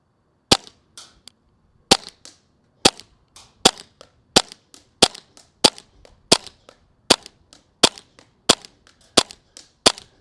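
An airsoft gun fires at a target 75 feet away, about fourteen sharp, snappy shots spaced roughly evenly, each followed by a fainter tick of impact.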